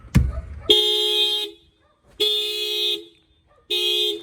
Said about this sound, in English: The alarm fired off.